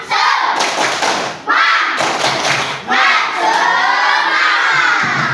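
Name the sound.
children doing a rhythmic 'tepuk semangat' clapping chant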